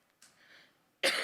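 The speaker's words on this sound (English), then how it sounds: "I'm going to turn it over to you first while I clear my throat" A speaker at a G20 Interfaith Forum session in Pune clears their throat: a soft rasping clearing, a pause, then a louder, harsh burst close to the microphone.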